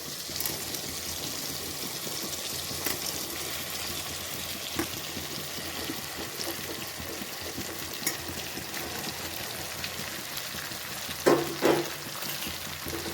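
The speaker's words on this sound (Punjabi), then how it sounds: "ਟਮਾਟਰ ਆਪਣੇ ਸੌਫਟ ਹੋ ਚੁੱਕੇ ਨੇ ਹੁਣ ਇਸ ਵਿੱਚ ਆਪਾਂ ਭਿੰਡੀਆਂ ਐਡ ਕਰਾਂਗੇ" Okra frying with softened tomatoes in a pan gives a steady, moderate sizzle that runs throughout, with a few brief stirring scrapes and a short clatter near the end, no voices.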